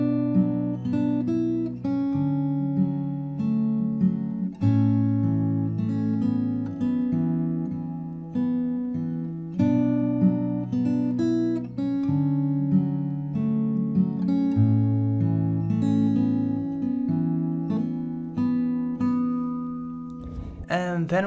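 Fingerstyle acoustic guitar playing the bridge of a song, steady plucked bass notes under repeating melody lines, moderately quiet and close, alone without speech.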